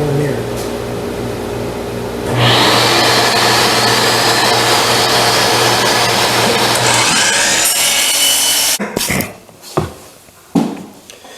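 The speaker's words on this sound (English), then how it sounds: "so when I cut it, my hand won't be anywhere near it." A saw cuts through a short clamped piece of wood board in a loud, steady grinding run of several seconds, ending in a few scraping bursts as the cut finishes.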